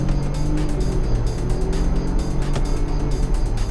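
A BMW 318i running on 100-octane petrol accelerates from a standstill, its engine droning loudly and steadily with a continuous low hum from inside the car.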